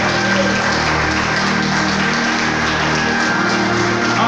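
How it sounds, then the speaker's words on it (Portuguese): Church congregation clapping for Jesus in a steady, dense wash of applause that fills the whole stretch evenly, with a faint sustained tone running beneath it. "Dê para Jesus uma linda salva de palmas"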